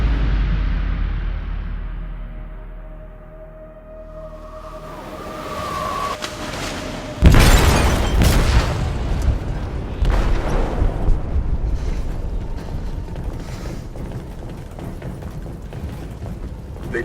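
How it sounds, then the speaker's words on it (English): An explosive detonates in a ship's hold in Detroit: Become Human, a deep heavy boom that rumbles on, followed by further crashing blasts and a long roaring, churning aftermath. "They detonated an explosive in the hold."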